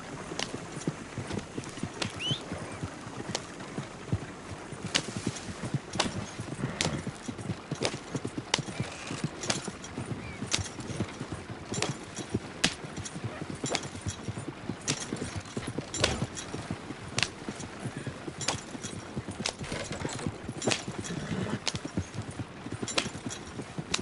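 Horse hooves clip-clop in a steady, even gait close up in a PS4 western game, with a short whinny mixed in and no one speaking.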